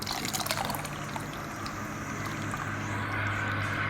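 Water poured into a pot of spinach dal (palakura pappu) in a home kitchen, a steady, continuous liquid rush filling the pot for about four seconds with no one talking.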